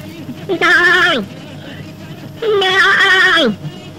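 Two loud, wavering goat bleats on a farm, each lasting about half a second to a second, separated by a short pause, close to the listener.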